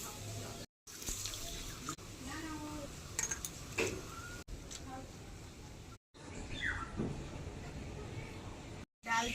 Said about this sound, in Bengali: ডাল চাল ভালো করে ধুয়ে নিয়েছি